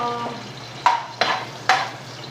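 Garlic and onion sautéing in a pan: three sharp scraping stirs of a utensil against the pan over a low, steady sizzle, close and fairly loud, with no talking.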